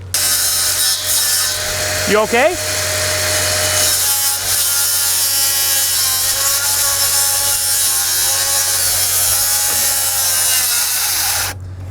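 A power saw cuts lumber for window and door framing, a loud, continuous whining cut that runs nearly twelve seconds, with a brief spoken question early on.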